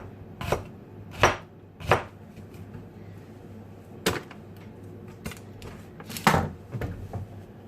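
Red onion being thinly sliced with a knife on a board, about seven or eight sharp separate chops spaced irregularly and heard up close.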